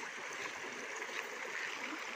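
Water flowing at Kupang Falls, a steady broadband rush and gurgle of a stream, continuous and moderately faint, with no voices over it.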